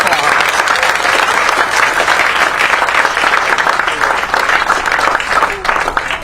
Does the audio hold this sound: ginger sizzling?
no